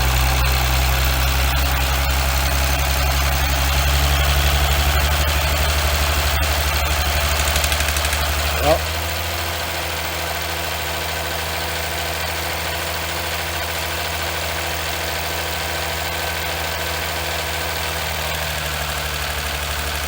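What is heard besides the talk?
Chrysler 300C Mercedes engine idling with loose injector noise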